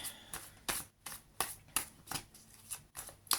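Tarot cards shuffled close up in about ten crisp riffling bursts at a steady rhythm, each a short papery flutter separated by brief quiet, with no talking.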